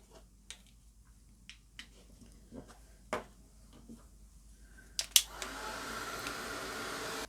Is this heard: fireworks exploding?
no